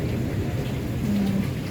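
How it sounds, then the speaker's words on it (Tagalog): Steady rain pours throughout in the Philippines, with a low, continuous rumble of thunder underneath; no voices. "Kumukulog pa rin."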